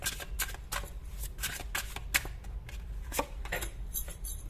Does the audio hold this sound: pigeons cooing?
no